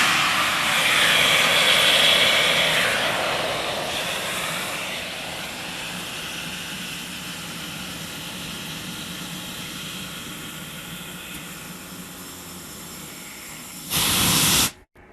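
Compressed gas blasting from an opened valve to make dry ice, a loud, steady broadband rush that eases slightly over about fifteen seconds before a brief harsher burst and sudden stop.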